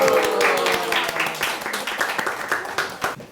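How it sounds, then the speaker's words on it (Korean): An audience at a Korean teaching-sharing session claps in a loud, crisp round of applause, individual claps distinct, tapering slightly toward the end. "박수 주세요"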